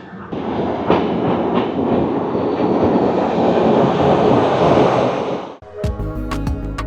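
The Rajdhani Express roars through Ghaziabad Junction, a loud, continuous rushing rumble with wheel clatter, ending abruptly in a sharper, clanking rattle.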